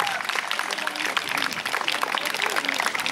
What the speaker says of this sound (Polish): Brawa, drodzy Państwo! Brawa, brawa, brawa!